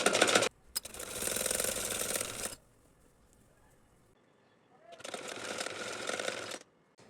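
Sewing machine stitching elastic onto fabric for a baby girl's ruffle top, running in two loud bursts of rapid stitching separated by a quieter pause, close up.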